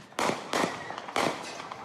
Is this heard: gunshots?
yes